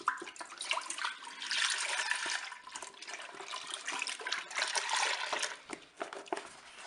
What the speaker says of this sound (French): On va verser le lait dans la cuve.